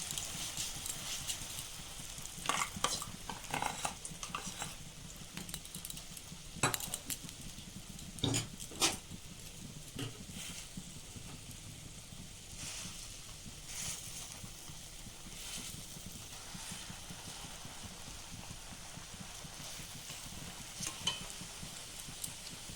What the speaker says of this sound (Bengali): তেল গরম হয়ে গেছে, এবার আমি ডাল বাটাটা এর মধ্যে দিয়ে দিলাম।